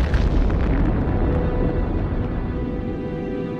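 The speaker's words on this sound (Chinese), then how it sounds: "原子弹在离地面600米的空中爆炸，立刻发出强烈的白色闪光，发出天崩地裂的爆炸声" A deep, rumbling atomic bomb blast over Hiroshima, a broad roar that swells at once and slowly fades as a long, loud rolling boom with no voices.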